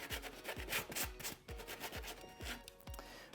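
Rhythmic scratchy rubbing strokes of a sanding block on a painted wooden bench, about eight even back-and-forth passes, close but soft, with no talking.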